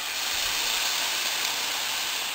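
Sauces poured into a hot pan with burnt meat for a stir fry sizzle and hiss steadily, a dense, even, close frying noise with no break.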